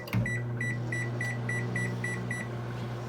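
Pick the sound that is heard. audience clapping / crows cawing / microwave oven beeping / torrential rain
microwave oven beeping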